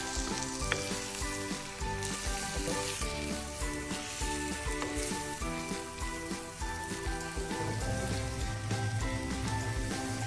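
Fish roe hissing and sizzling steadily in a hot pan as it is stirred into masala, a dense continuous crackle with faint scraping of the spoon, quiet and without talk.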